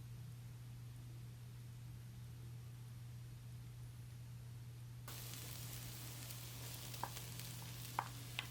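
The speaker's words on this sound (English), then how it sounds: "we're going to add 1 chopped garlic clove. And cook this out for a couple of minutes." Chopped garlic fries in a cast iron pan alongside softened onions, a faint, steady sizzle that grows brighter partway through, with a couple of small clicks and a low hum underneath, no talking.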